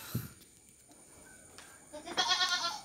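A Peranakan Etawa goat in a rabbit and goat livestock pen in Lampung lets out one wavering, drawn-out bleat near the end, fairly close, after a quiet stretch with a brief knock at the start.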